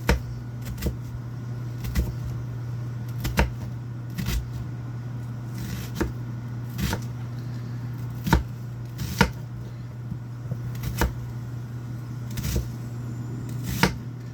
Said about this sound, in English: I like to do real thin slices.